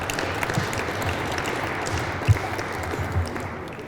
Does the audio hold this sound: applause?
yes